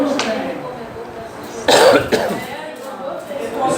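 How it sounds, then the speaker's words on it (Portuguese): A person coughs once during a spoken lecture, a short harsh burst near the middle that stands out over quiet room noise. "Só um instantinho que eu vou tossir."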